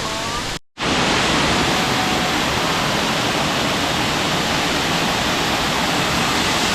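Erawan Falls, a waterfall in Southeast Asia, gives off a steady, dense roar of cascading water that fills the whole clip and cuts out for an instant near the start before returning unchanged.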